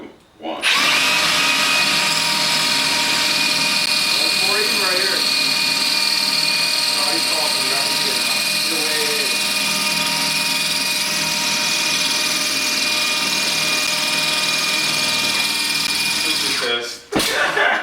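A Milwaukee M18 Fuel rotary hammer runs loud and close in one sustained, steady drilling whine for most of the clip, with brief voices faintly underneath, then stops abruptly near the end.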